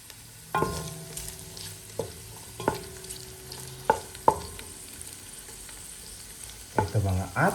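Tofu fries in oil in a pan, giving a soft steady sizzle. Several sharp clinks and a louder burst of movement near the end break through it, close and without talking.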